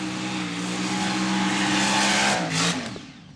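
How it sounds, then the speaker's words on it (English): A Mustang nitro funny car roars loudly down the drag strip's quick performance lane on the pit side, its engine holding a sustained high-pitched howl before the pitch drops and fades as it passes. "That's the Mustang going down that quick performance lane on the pit side."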